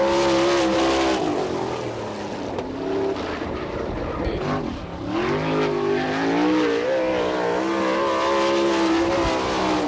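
Sprint car on a qualifying lap at Attica Raceway Park, Ohio, during an All Star Circuit of Champions event: a loud, continuous high-revving engine drone that dips briefly mid-run and then climbs again, heard alone.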